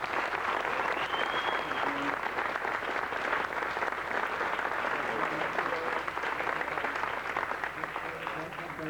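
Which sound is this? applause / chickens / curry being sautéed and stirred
applause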